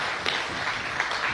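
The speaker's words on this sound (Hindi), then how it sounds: "अरे ताली तो बजाओ अपने लिए" Audience clapping at a business achievers' gathering: a steady, dense patter of applause from a crowd, moderately loud and continuous throughout.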